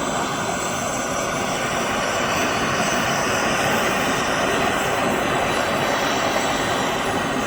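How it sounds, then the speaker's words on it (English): A blowtorch heats a plastic-pinned U-joint to free it during a car build. The flame gives a loud, steady, unbroken roar that is heard on its own. "If you ever have to separate one of these with the plastic pinned U-joints, this is how you do it. You just add heat."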